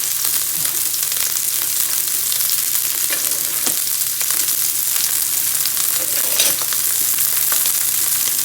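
Thin slices of pork fillet frying in olive oil in an uncrowded pan, a loud continuous close-up sizzle with scattered small pops throughout.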